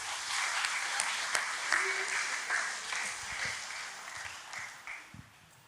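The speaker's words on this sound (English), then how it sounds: "So a round of applause for Babetha, please." Audience applause for a graduate at a graduates' event: dense, steady clapping from a crowd that gradually thins and fades away over several seconds.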